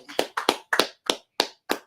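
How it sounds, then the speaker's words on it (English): A few people clap in a slow, rhythmic pattern, seven sharp, close hand claps spaced evenly with short gaps between them in a small room. "Everybody can go ahead and clap it up."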